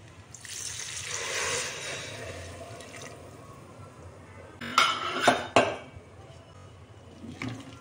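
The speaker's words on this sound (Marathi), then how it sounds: "आता आपण 2 ग्लास उकळतं पाणी टाकून घ्यायचं" Two glasses of boiling water pour with a soft rushing hiss into a pot of rice and dal for khichdi, followed by a few sharp metallic clanks of cookware before things settle down.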